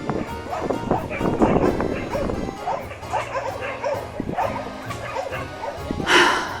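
Many shelter dogs bark, yip and whimper in a dense, echoing chorus across mountainsides at the Takis shelter, with overlapping calls near and far and a louder burst near the end.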